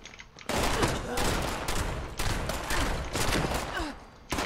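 Sustained enemy gunfire in the game Fallout 76, a dense, loud volley of shots running almost continuously with brief pauses, starting after a short quiet moment.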